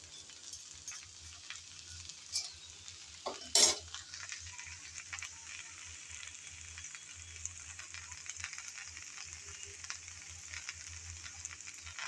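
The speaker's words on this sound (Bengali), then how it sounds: "যতক্ষণ না ভালোভাবে সিদ্ধ হবে ততক্ষণ এভাবে নেড়েচেড়ে ভেজে নিতে হবে।" Okra and potatoes stir-fry in a pan with very little oil, giving a steady soft sizzle and scraping stirs, plus one sharp clink of a utensil against the pan partway through.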